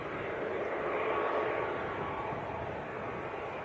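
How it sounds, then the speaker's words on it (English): A Jet2 Boeing 737-300 bound for Faro pushes back and begins taxiing out at Leeds Bradford Airport, its engines a steady, broad roar held at a constant level throughout. "It's Jet 2 just starting to push taxi out"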